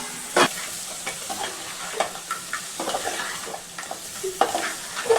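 Crab pieces sizzle in masala in a pan, Bhimavaram style, while a spoon stirs and scrapes with irregular clinks. The frying is close and fairly loud, and no one speaks.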